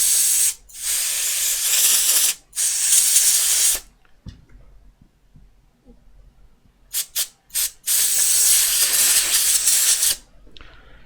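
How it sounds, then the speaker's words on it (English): Short, sharp bursts of compressed air blast condensation off an iPhone 7 circuit board during a no-power repair, several loud hissing puffs separated by quiet gaps with faint handling noises. "So I'm going to blow some of the condensation off here."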